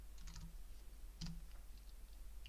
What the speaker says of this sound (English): So I just need to type in the program here